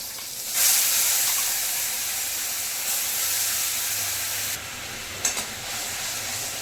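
Spice paste of dried chilli, bay leaf, ground coriander and cumin sizzles and hisses steadily in a hot pan. A brighter burst of spitting comes early, with a couple of soft stirring knocks later on, all close and moderately loud, with no talking.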